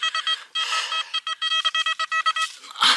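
A handheld metal detector on a beach gives a rapid series of short, pulsing electronic beeps that come in quick bursts, close and clear, ending in a brief rough noise.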